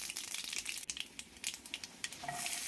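Mustard seeds and cumin sizzle in hot oil in a pan, a steady close crackling hiss with small pops throughout, heard alone with no talk.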